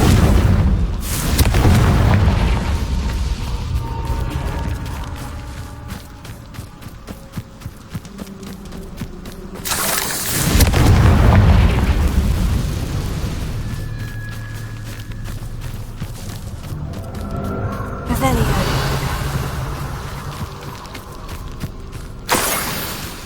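Bombarda and Confringo spell blasts in the Hogwarts Legacy video game, several heavy booming explosions with long rumbling tails under a droning game soundtrack, loud and repeated.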